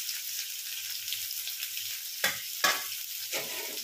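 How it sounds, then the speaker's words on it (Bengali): Bitter gourd frying in mustard oil, with a strong close sizzle and two or three sharp spatula stirs cutting through the crackle, no talk. "সর্ষের তেল দিয়েছি, এর মধ্যে উচ্ছেগুলোকে খুব ভালো করে ভেজে নেব"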